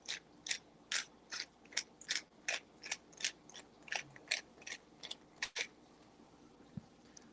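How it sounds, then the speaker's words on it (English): Pepper grinder crushing fish food pellets into mixed sizes: quick rhythmic ratcheting clicks, about fifteen gritty crunches in a steady cadence, close and fairly quiet, with no talking. "I like to use the pepper grinder because it brings these all these pellets come down into all different sizes"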